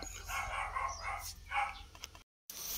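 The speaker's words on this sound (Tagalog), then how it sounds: "Yung aso ng kapitbahay ko ang ingay." A dog barks several times in short, irregular yelps over a low background hum, with a brief dropout of sound near the end.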